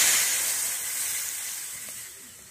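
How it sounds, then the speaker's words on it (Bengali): Moong dal with fish head, poured into a hot pan in a village kitchen: a bright, loud steamy sizzle that bursts up at first and then gradually fades and softens, with no talking. "ডালটা ঢেলে দেওয়া হলো।"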